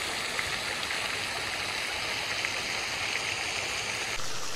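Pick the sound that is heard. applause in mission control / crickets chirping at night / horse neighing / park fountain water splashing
park fountain water splashing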